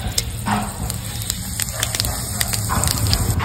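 Dried red chillies, whole garam masala and cumin seeds crackle and sizzle in hot mustard oil, a steady close spitting hiss with brief pops throughout.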